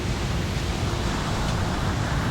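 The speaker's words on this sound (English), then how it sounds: "Wind's picking up a little bit" Wind blows over the open sea near Cape Horn, a steady dense roar of rushing air and wave hiss, loud and unbroken, with no talk.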